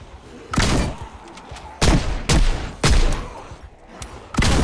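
Gunshots from a player's firearm in Project Zomboid, five loud close blasts in separate bursts, some rattling in quick doubles, spaced by short quiet gaps.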